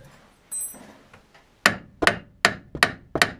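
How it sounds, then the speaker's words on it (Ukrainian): A hammer taps five times in a steady rhythm on a Volkswagen T4 ball joint, each strike sharp, metallic and close, preceded by softer handling clatter. "постучав, щоб воно трошки просіло"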